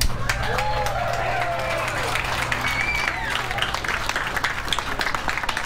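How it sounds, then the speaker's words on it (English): A crowd applauds at an outdoor BBQ cookoff competition, a steady wash of clapping with scattered whoops and cheers that holds at an even level throughout. "all of you deserve a round of applause."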